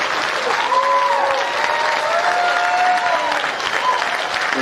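Audience applause at a concert marking a farewell to the band the Lost Dogs: steady, dense clapping from a crowd filling the whole stretch, with faint whistle-like tones above.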